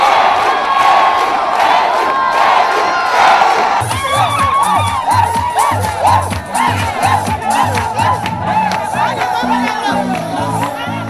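A stadium crowd cheers and shouts in a bain de foule for Dominique Ouattara at Stade Mamadou Koulibaly, a loud continuous roar of voices with whoops, joined midway by rhythmic drumming or music.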